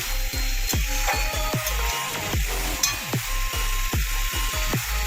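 Fried potatoes stirred into poppy seed paste in an oily pan, a Bengali okra-potato curry: a steady, close sizzle with a rapid series of spoon taps and scrapes against the pan.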